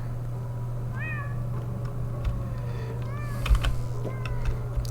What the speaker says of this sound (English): I really do like the sound effects of the cat in particular.